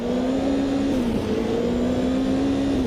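A race car engine in the Automobilista 2 racing game drones at a steady, fairly quiet pitch that dips briefly and recovers, sounding distant and subdued throughout with no talk.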